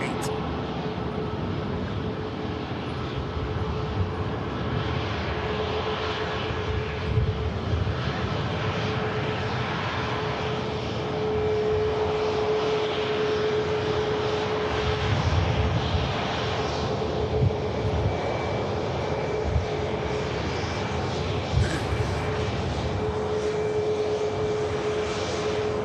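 Turkish Airlines Boeing 737 Max 8 taxiing at Manchester Airport, a steady jet engine whine and hum with a sustained tone, heard close and constant, with faint background talk at times.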